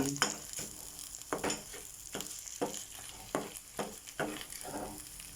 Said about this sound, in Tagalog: Nilagay na natin yung egg and then hahaluin lang natin